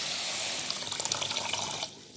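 Water poured into sugar for homemade Rooh Afza syrup, a close steady splashing stream lasting about two seconds before stopping, with no talking.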